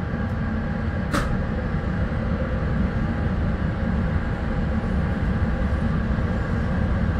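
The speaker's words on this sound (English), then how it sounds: "Here's a freight train." A freight train rumbles past an Amtrak Pacific Surfliner stopped at a station inland from Santa Barbara, giving a loud, continuous low roar with steady rail noise and one brief high squeal.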